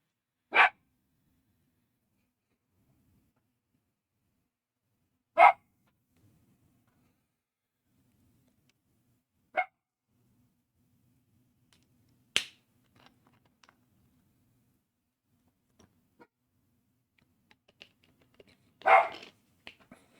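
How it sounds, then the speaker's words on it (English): Dogs agitated by thunder bark in short, sharp, isolated bursts spaced several seconds apart, fairly quiet, with near-silence between them and a cluster of softer sounds near the end. "Thunder has started again. So the dogs are agitated."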